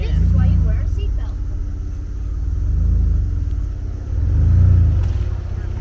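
A vehicle drives through mud puddles, a heavy low rumble swelling and fading in three waves as the engine pushes through, with people talking in the cab over it.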